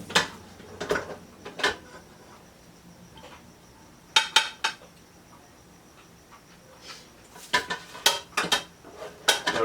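Wooden utensils scrape and tap against a dish while rice is plated, sparse clicks and knocks coming in small clusters with quiet gaps between them.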